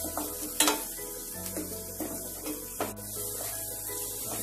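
A paste of onion, mango and green chilli frying in a pan while being stirred, with a soft steady sizzle broken by periodic scraping strokes and a few sharper clinks, close and fairly quiet.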